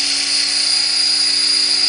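A T-Rex 500 RC helicopter's rotor whines steadily and loudly at close range, a constant high-pitched turbine-like drone with a low hum underneath, holding unchanged throughout without pauses.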